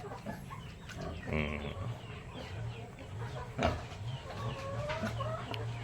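A native rooster on a farm clucks and calls in short bursts, fairly close, with a brief louder crowing-like cry and faint background voices.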